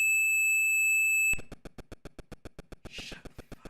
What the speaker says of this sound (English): That's the sound of a scream, by the way. That's not my smoke detector going off.